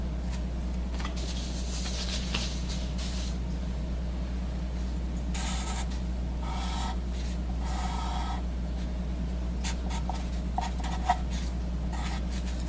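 A pen drawing a triangle on paper: faint, intermittent scratchy strokes over a steady low electrical hum, with no talking.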